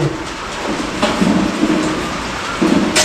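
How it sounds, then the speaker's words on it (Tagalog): Steady rain hisses continuously, with a low rumbling background and a few louder surges, no voices heard. "Hindi na tumigil ang ulan."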